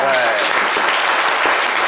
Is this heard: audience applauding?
yes